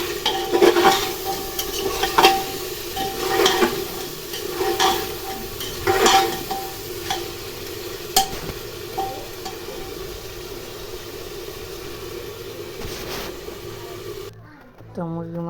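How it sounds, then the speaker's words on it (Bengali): Chicken pieces are stirred and sautéed in a pressure cooker, with a steady sizzle beneath repeated sharp scrapes and clinks of a spoon against the metal pot, close and fairly loud, until it cuts off abruptly near the end. "তো এখানে আমি প্রেশার কুকার বসাই দিয়েছি, তো ভালোভাবে এটাকে কষাবো।"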